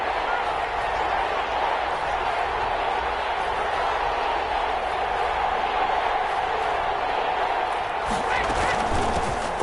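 Stadium crowd in an American football video game, a steady roar of cheering that holds constant and swells slightly near the end, with a commentator talking over it.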